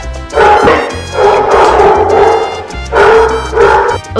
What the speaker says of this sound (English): Oh my God, this dog.